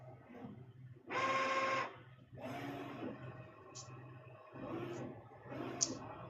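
A direct-to-garment T-shirt printer runs in short mechanical bursts of whirring and clicking over a low steady hum. The bursts come in uneven spurts, heard up close and fairly faint.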